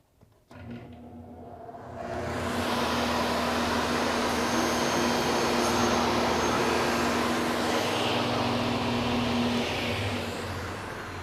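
A MiniMax C26 sliding table saw spins up and cuts through a board, a steady loud whirring roar with a sustained hum that fades slightly at the end.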